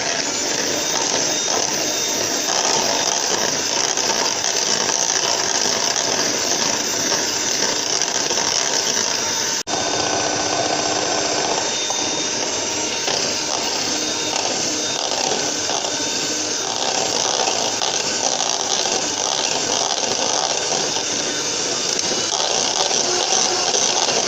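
An electric mixer whirs continuously and loudly as eggs are beaten with sugar for a vanilla sponge cake, a steady mechanical drone with a brief dip near the middle.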